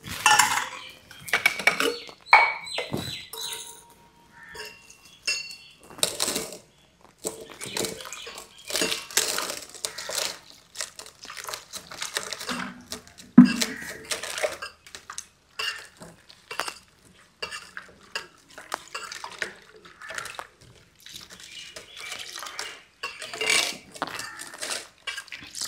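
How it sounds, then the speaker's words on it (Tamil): Ragi flour being stirred into water in a metal pot, giving repeated scraping and clinking of a utensil against the pot that come in irregular bursts over about half a minute, close and fairly loud, with no talk. "இது கேவுரு மாவை கிண்டி வச்சுப்போம் கரைச்சி."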